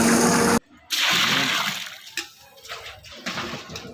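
Water pours in several bursts into a large pot of vegetable biryani with salt, soaked peas and ground cashew-almond paste, a loud rushing splash that cuts off briefly, then resumes and tapers in uneven surges.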